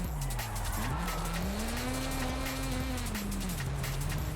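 A Mazda RX7 in Forza Horizon 5 holds a loud, continuous engine note that rises and falls with throttle, while the tires squeal throughout the drive.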